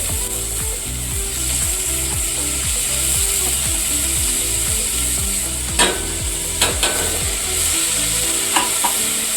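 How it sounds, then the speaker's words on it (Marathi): Rice being stirred and roasted in hot ghee with cloves, black pepper and cinnamon for narali bhaat, giving a steady close sizzle under a rhythmic mechanical churning, with a few sharp scrapes of the spoon near the end. "व्यवस्थित परतून घेऊन हे एक वाटी तांदूळ आहे व्यवस्थित तुपामध्ये परतून घेते"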